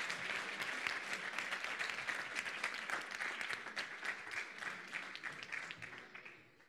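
Sustained audience applause at an academic digital health conference closing ceremony, dense and even throughout before thinning out at the very end.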